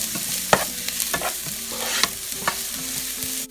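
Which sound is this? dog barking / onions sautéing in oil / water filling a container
onions sautéing in oil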